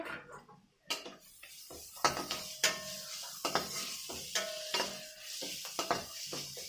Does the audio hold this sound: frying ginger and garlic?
yes